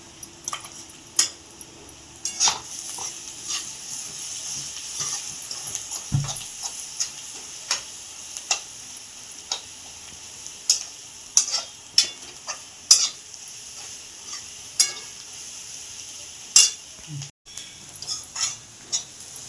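Ground spice paste roasting in oil for a dill and moong dal vegetable dish, with a steady soft sizzle under repeated sharp clicks and scrapes of a spoon stirring against the pan.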